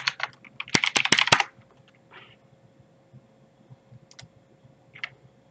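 A computer keyboard clatters in a quick burst of keystrokes, then a few isolated clicks follow after a pause, close and clear against a faint steady hum.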